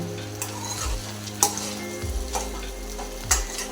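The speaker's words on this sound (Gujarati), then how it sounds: "ત્રણથી ચાર મિનિટ આપણે તેલમાં ચડવા દેવાનો છે" Sliced okra, desi red bhindi cut into rounds, frying uncovered in oil in a pan, with a steady close sizzle and a few sharp scrapes of a spoon stirring.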